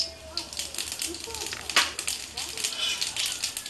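Nigella seeds sizzle and crackle in hot oil in a wok, a steady close frying hiss with faint popping.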